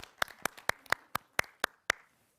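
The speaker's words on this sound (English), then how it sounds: "Round of applause for our technical crew today." Scattered handclaps from a small theatre audience applauding the technical crew, about eight sharp, distinct claps in an uneven rhythm that fade out after two seconds.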